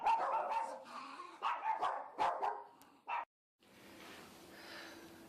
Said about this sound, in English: That was my dog barking